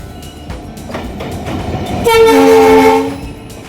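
A train pulls into Tollygunge station in Kolkata with rumbling wheels, then a loud, sustained multi-tone horn blares for about a second before fading.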